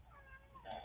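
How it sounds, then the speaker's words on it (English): A cat meowing to be let outside, one short drawn-out meow, faint and alone against a low indoor hum. "Cat wants to go out though."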